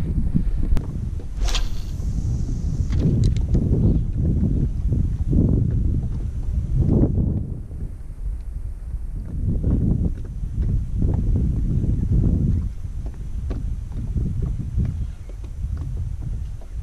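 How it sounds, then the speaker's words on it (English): Gusty wind blowing outdoors while fishing for jacks and grunter, a loud continuous low rumble buffeting the microphone in waves, with faint thumps and clicks now and then. "Oh, that wind's picked back up again."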